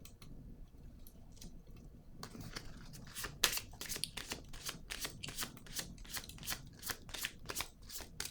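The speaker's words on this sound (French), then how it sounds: "Je vais déposer une carte ici." A card being laid down and handled, a run of crisp, quiet flicks and papery snaps close by, repeating in a loose rhythm.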